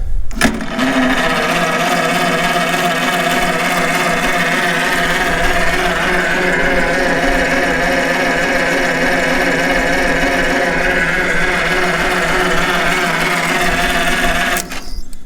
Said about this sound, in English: What I'm going to do is keep cranking this until I get a little bit of pressure registered on the oil gauge.